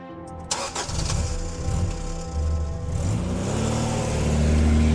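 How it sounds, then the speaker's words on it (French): A police car pulls up nearby, its engine loud and close as it starts and revs, rising and holding steady with no voices over it. "c'est là que j'ai vu une voiture de police arriver"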